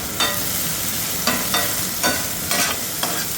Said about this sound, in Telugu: ఆనియన్స్ కూడా బేగా కుక్ అయిపోతాయి సాల్ట్ వేయడం వల్ల